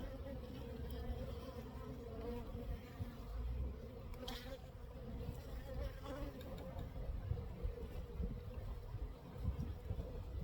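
Honey bees swarm around an opened hive left untouched for years, a dense, steady buzzing drone filling the scene at close range, with faint background rustles.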